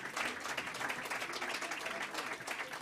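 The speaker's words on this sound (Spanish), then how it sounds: "Un aplauso para estos grandes artistas, por favor" Concert audience applauding the performing artists at a jazz venue, a steady dense patter of many hands clapping at moderate volume, unbroken throughout.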